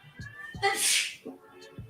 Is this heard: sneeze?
yes